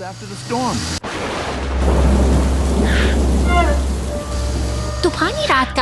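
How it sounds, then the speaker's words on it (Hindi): Thunder rumbles through a stormy night in a city, a deep, heavy roll building and sustaining loudly beneath a narrating voice, with a sharp crack near the start. "तूफानी रात का अंधेरा शहर को अपनी चपेट में ले रहा है, बिजली की कड़क के बीच।"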